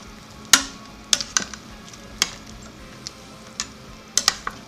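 Spoon stirring diced red and orange bell peppers, carrots and courgettes in an Instant Pot, heard close up as irregular clinks and scraping taps against the pot's metal insert, with no talking.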